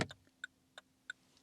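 A Vauxhall Corsa D turn indicator ticks inside the car in a steady rhythm, four crisp clicks roughly a third of a second apart, fairly faint and with no talking.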